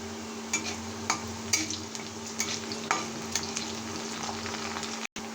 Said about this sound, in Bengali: আমি একটি কড়াই বসিয়ে দিয়েছি তার মধ্যে কেটে রাখা পেঁয়াজগুলো দিয়ে দিয়েছি